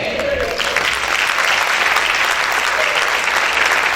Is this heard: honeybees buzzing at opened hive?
no